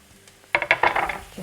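Potatoes stirred into chili and mild curry powder spice mix in a pan, a quick burst of close scraping and clattering strokes after a near-silent start, with no talk.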